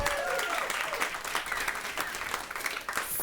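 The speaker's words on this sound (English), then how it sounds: "Huge round of applause for Rebecca" A Climate Week audience applauds a guest from NRDC, a fairly faint, continuous patter of many hands with a raised voice briefly audible at the start.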